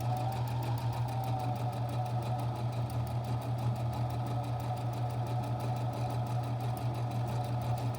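A sewing machine stitching the first line of a buttonhole runs at a steady, even whir with a rapid regular needle chatter, close and continuous without any talk.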